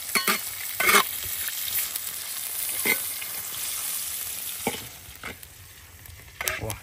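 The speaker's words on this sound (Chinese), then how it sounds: "炒香肠的话一般都是用中火炒" Smoked sausage stir-fried in a wok over a strong flame, a continuous crackling sizzle broken by a few sharp scrapes and clacks of the spatula, close and steady with no talk.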